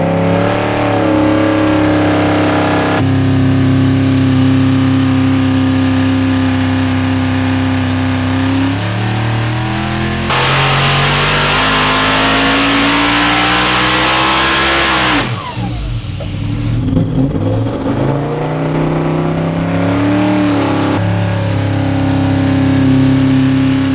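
A Ford Coyote V8 built for about 2000 hp runs boosted pulls on a dyno, revving steadily upward toward 8,000 rpm with a loud, rising engine roar. The roar drops sharply near the end, then climbs again, and no voices are heard.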